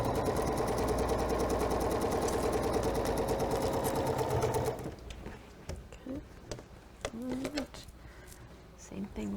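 Sewing machine stitching quilt block pieces, a rapid rhythmic clatter running for about five seconds before stopping, then quieter handling noises and a voice talking.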